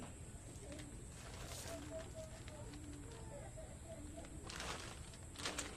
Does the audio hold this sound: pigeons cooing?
yes